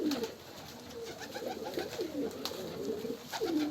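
Pigeons coo repeatedly in soft, low rolling calls, several birds overlapping against a steady outdoor background hum.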